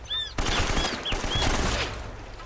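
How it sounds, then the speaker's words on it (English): Gunfire in Uncharted: Drake's Fortune: a sudden burst of dense, rapid shots erupts after a brief quiet start and keeps rattling loudly, with whizzing ricochet-like tones cutting through the barrage. "How are you shooting me?"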